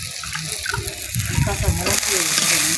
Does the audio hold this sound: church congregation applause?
no